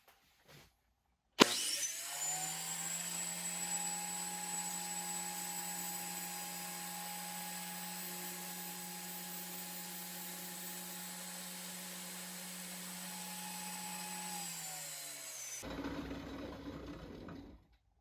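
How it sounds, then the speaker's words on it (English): A contractor table saw starts with a sharp jolt and runs at a steady, loud whine while its blade is raised, holding for about fourteen seconds before spinning down and cutting off. "I'm going to turn on the saw and start raising that blade."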